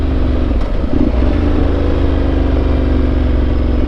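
A Ducati 1200 Multistrada Enduro motorcycle engine runs steadily and loud throughout, a deep throbbing drone with a slight lift in revs partway through, no voices over it.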